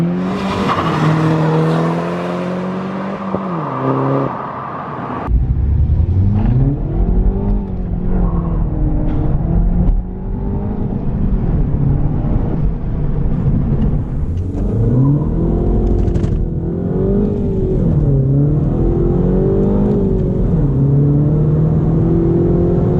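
A remapped Mini Cooper S pulls hard through third gear, its loud engine note rising and falling in several revving surges, close up inside the car with no talk.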